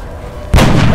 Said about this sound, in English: Scott got a sniper rifle, and he's not afraid to take a heavy-duty shot at the mind melder